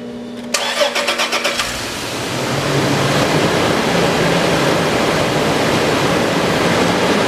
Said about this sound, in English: As you can see, this motor starts and